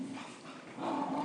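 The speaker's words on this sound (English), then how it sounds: "You can probably hear like weird growling noises in the background. That's my puppy playing with one of the other dogs." A puppy growls and grumbles while playing with other dogs at a trail event, rough low growls rising louder toward the end, with faint background activity.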